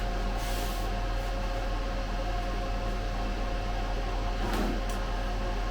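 Ninja 10-in-1 countertop oven running while preheating, a steady whooshing fan hiss with a low hum, close and continuous, with a brief louder burst near the end.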